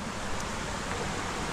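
River water rushes through natural rock pools on the Río Alaminos in Málaga, a steady broadband rushing hiss with no distinct splashes and no talking.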